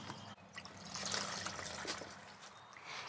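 Water is poured out of plastic seedling trays of Swiss chard, a soft, continuous trickle and splash lasting a few seconds, fairly quiet with no voices.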